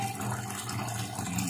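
Water poured into a container of bird medicine, a continuous splashing, trickling wash that runs steadily and close by for the whole moment with no talking.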